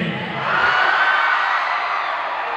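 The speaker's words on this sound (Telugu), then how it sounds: "మీరు అరుస్తుంటే ఈ అరుపులకు నాకే భయం వేస్తుంది." An audience at a speech event shouts, whoops and cheers together in a steady, loud crowd roar that swells slightly after the first half-second and holds throughout.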